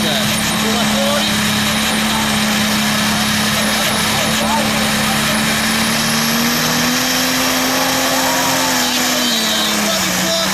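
A turbine-powered pulling tractor runs at a tractor pulling event in Fiume Veneto, a loud steady roar with a high whine that slowly rises in pitch, heard throughout under an announcer talking continuously.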